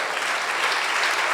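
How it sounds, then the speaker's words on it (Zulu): Church congregation applauding during a sermon, a dense, sustained clapping from many hands that stays loud and even throughout. "Ayishaya ihlombe likhulu kakhulu."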